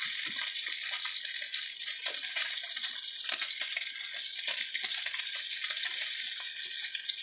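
Steady, loud sizzling hiss of food frying in hot oil, with crackles and pops running continuously throughout.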